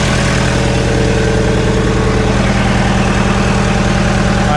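An old forklift engine idles steadily, loud and close, with a constant low rumbling drone and vibration throughout and no talk.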